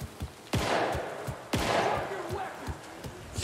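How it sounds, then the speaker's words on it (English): Two heavy shotgun blasts boom about a second apart in the video game Alan Wake 2, each a loud, close broadband crack with a long rumbling decay, amid softer low thumps and footstep-like knocks. "Hell yeah, I got a shotgun."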